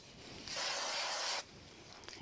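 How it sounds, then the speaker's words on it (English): A single steady burst of spray glue hissing from an aerosol can for about a second, close by, with quiet room tone before and after. "So I'm going to use a little bit of spray glue on these."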